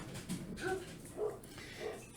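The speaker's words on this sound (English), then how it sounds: "sorry about my dog." Several faint dog yelps and whimpers come from a dog in the room, spaced apart and fairly quiet over low background noise.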